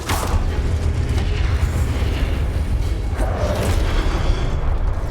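A Confringo spell blast in the Hogwarts Legacy video game, a loud, sustained booming explosion with a heavy low rumble and a sharp burst at the start, steady and dense throughout.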